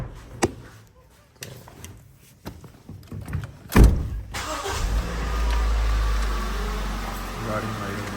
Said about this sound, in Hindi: गाड़ी हमारी स्टार्ट।